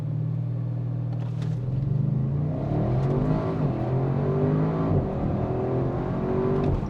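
A 600-horsepower Audi RS6 launches hard in a 0–100 km/h acceleration run, its engine note climbing through several gear changes with a deep, rising roar heard from inside the car, without talk.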